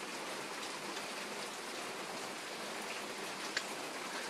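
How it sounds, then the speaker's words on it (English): Steady rain pours down during a thunderstorm in Wisconsin, a dense even hiss with a single sharp drip or tap near the end, no voices. "It's storming in Wisconsin again."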